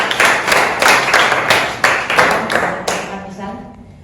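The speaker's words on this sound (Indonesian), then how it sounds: "Ya, tepuk tangan sama kami." A classroom audience of students claps after a poem recitation during a teaching practice session, a dense burst of applause that fades out over a few seconds.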